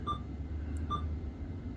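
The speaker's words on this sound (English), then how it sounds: "I heard beeps." Two short, faint electronic beeps from a Sony XAV-63 car head unit, spaced under a second apart over a low steady hum.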